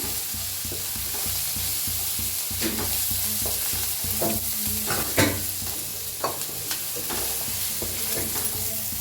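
Red chili powder, turmeric and garam masala are stirred into frying tomato and onion, a low steady sizzle under repeated scraping and knocking of a spoon against the pan.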